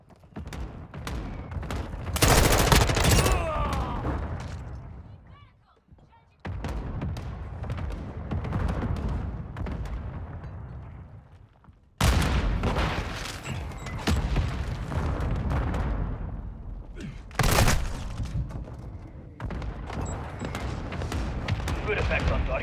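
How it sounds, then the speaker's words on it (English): Heavy booms from a mortar strike in Call of Duty MW2 team deathmatch at a hotel map, with several loud blasts spaced seconds apart and each followed by rumbling gunfire, while radio voices speak over the action. "Copy your mark. Mortar strike inbound."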